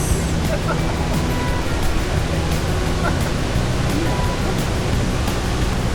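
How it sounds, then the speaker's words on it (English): Water rushing at a waterfall in Vietnam, a loud, constant broadband roar that stays steady and unbroken throughout. "A lot of water, yes."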